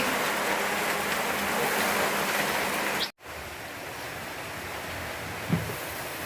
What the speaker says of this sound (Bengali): বৃষ্টিও নেমে গেছে।